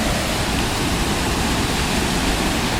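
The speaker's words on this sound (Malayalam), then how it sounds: "നമ്മൾ അങ്ങോട്ട് വെള്ളച്ചാട്ടം കാണാൻ പോകുമ്പോൾ ചെറിയ ചെറിയ വെള്ളച്ചാട്ടങ്ങളാണ് ഇതൊക്കെ" Small waterfall in the forest at Kakkadampoyil, a loud, constant, close rushing roar of falling water with no pauses.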